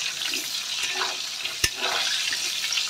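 Pointed gourd (potol) frying in oil for a vegetarian dish, a steady close sizzling hiss that continues throughout, broken by one sharp clink of a utensil near the middle.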